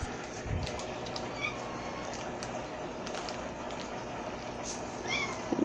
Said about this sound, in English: That is my cat, Jill, that just came into the room.